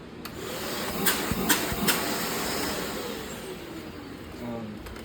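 A bagged vacuum cleaner hums steadily with suction pulling through its wand, a close, even whirring drone punctuated by a few brief clicks and knocks early on.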